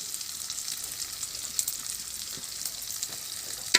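Saag greens sizzle steadily in a hot pan with oil, a continuous crackling fry with faint stirring clicks throughout.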